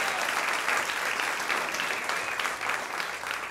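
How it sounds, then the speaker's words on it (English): Steady, dense applause from a comedy club audience honoring two comedians, a continuous wash of clapping with no talk over it. "Give them a nice round of applause."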